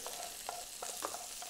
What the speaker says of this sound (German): Das kommt jetzt hier in unsere Mayonnaise. So. Das Ganze wird vermengt.